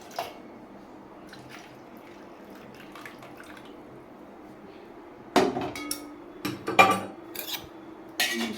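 A spoon clinks against a cup or dish while a drink is made with hot water, giving a few sharp, close metallic taps near the end after quieter kitchen handling noises.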